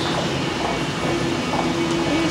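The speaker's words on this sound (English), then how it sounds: "I'll wait for this train to go." A train runs at the Ueno station platform, giving a steady, close rumble with a faint humming tone. No one speaks.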